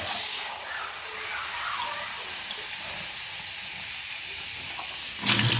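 Water filling a handmade clay and cement vase, a steady hissing rush of flowing water heard close and constant, ending with a brief louder splash or handling sound.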